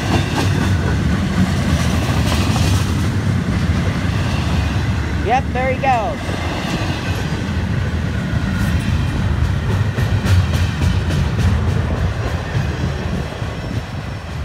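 Local 950 train rumbles past close by through Stuart with steady rolling wheel noise and a brief metallic squeal midway as its end approaches; someone speaks briefly over it.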